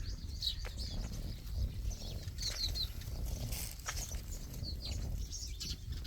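Sparrows nesting inside a hut beside a green forest, faint high chirps in scattered short bursts over a low rumbling background, distant and soft, with no voices.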